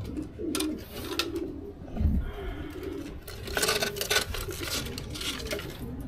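Racing pigeons waiting for food coo softly and repeatedly at close range, with occasional metallic clinks and light clatter in the loft.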